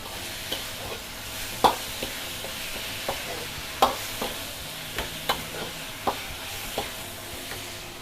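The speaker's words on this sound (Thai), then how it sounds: "เราจะมาในเมนู ผัดหน่อไม้กุ้งกันดีกว่านะคะ" Shrimp and bamboo shoots stir-fry in a hot pan, a constant sizzle broken by regular scraping strokes of a spatula, some sharper and louder, close by and without talk.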